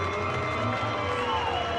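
Braves fans at a baseball game applaud a relief pitcher taking the mound, a steady, distant wash of clapping and crowd noise from the stands under a broadcaster's voice.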